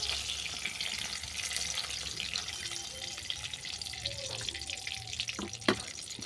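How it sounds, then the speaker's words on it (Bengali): Cabbage browning in hot oil in a pan, a steady close sizzle and crackle running throughout with a few brief clinks of a utensil near the end. "দেখো কপিটা আমি উল্টো পাল্টা বাদামি করে ভেজে নিয়েছি।"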